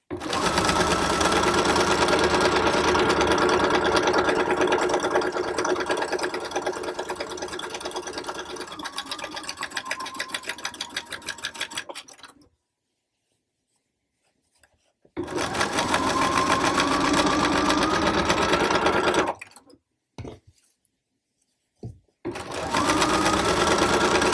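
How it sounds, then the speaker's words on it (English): Sewing machine running a seam around the curved edge of a mock bag flap at 1/2-inch allowance, a steady close mechanical whir with slight speed changes, stopping briefly twice before starting again. "I'm going to sew up around that curve as well for this flap."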